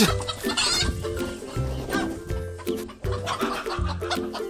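Chickens cluck loudly and repeatedly up close while someone chases them to catch one, with busy flapping and scuffling throughout.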